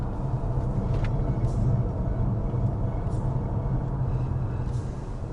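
A Seres 3 electric car runs over a kerb rumble strip in a bend, giving a steady, loud low rumble and road roar from inside the cabin with no clear individual bumps.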